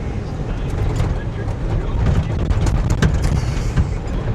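An old Ford OBS truck driving with its exhaust freshly repaired, a steady low engine and road rumble with rattles, heard close inside the cab under some talking.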